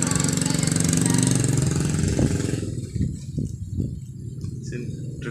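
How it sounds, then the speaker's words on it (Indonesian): Very strong afternoon wind in Way Abung 3, North Lampung, roars loudly and steadily for about half the clip, then drops away, leaving scattered low thumps and gusty rumbles. "Anginnya kencang sekali"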